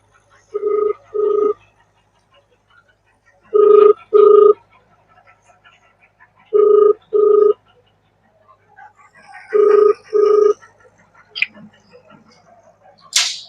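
A phone rings in four evenly spaced double-burst rings separated by silence, loud and close, followed by a short rustle at the end.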